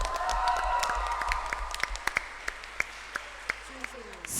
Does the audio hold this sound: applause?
yes